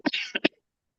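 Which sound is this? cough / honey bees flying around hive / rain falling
cough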